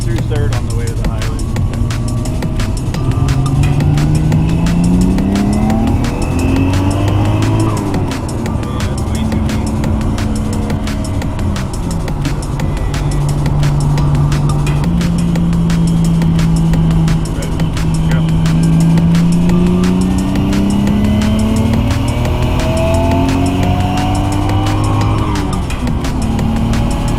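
A Toyota JZX100 car accelerating hard through third gear toward a highway, its engine note climbing steadily in long sustained pulls with a shift-like dip, loud and droning from inside the cabin, with no talking.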